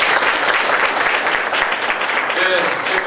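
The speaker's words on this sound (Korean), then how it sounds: "다시 한번 큰 박수 부탁드리겠습니다." An audience at a book concert on labour poverty and land justice applauds, a dense, even burst of clapping filling the room from start to finish.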